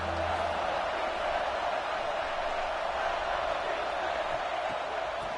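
An Ohio State Buckeyes home crowd in the NCAA 26 football video game roars on third down, a dense, constant wash of cheering that stays even and loud from start to finish.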